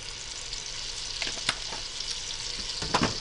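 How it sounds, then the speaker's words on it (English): Vegetables sweating in a pot for jalapeno popper soup give off a steady, close sizzle, while a few stirring scrapes and light knocks come through near the middle and end. "let these vegetables sweat out a little. Give it a little stir"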